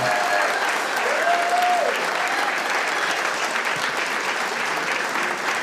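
An audience at a senior pride luncheon claps in loud, sustained applause that holds steady for several seconds, with a few voices calling out over the clapping.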